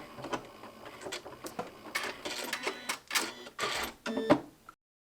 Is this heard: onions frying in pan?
no